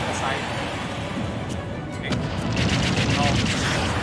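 Explosion during a Super Smash Bros. Ultimate grand finals match between Snake and Robin, sharp bursts and a swelling blast over constant game noise and crowd, with brief crackling hits.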